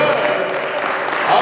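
Applause and clapping fill the room from a debate event audience, a dense, steady wash of many hands lasting about a second and a half with no pause.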